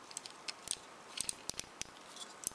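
Plastic joints of a Transformers Prime First Edition Bulkhead action figure give sharp, irregular clicks, around a dozen close-up ticks spread over a couple of seconds with no talking.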